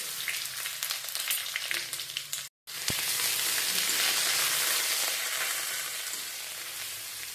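Whole spices and ginger-garlic paste fry in oil in a pan for a Bengali potato-cauliflower curry, with a steady, fairly quiet sizzle that brightens after a brief gap.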